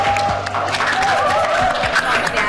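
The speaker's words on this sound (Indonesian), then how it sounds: "Tepuk tangan" Audience applause at a school stage show, a dense patter of many hands clapping continuously at moderate distance, with a voice briefly heard through it.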